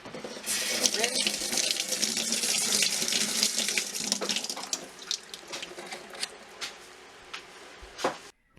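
Tomatoes being rinsed under a running kitchen tap into a sink, a loud steady gush of water that breaks into intermittent splashes and drips toward the end as the flow is cut.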